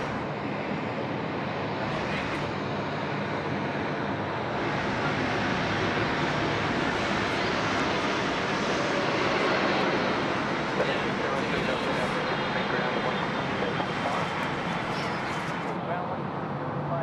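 An airliner lands at Sydney Airport at night, its engines a continuous broad roar that swells slightly midway, with faint wind noise and someone talking over it.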